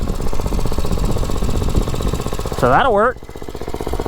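A gas mini bike engine running on a 60% diesel fuel mix chugs loud and close with a steady, rapid knocking pulse, while someone briefly talks over it near the end.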